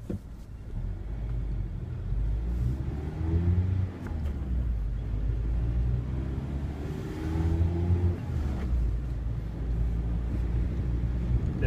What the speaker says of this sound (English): the exhaust note because it's one of the most pleasurable sounds we've heard in a long time